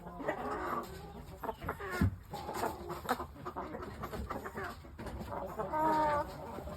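Young Shamo pullets cluck and chortle in a barn, a mix of soft clucks and fuller calls overlapping throughout, fairly close and continuous.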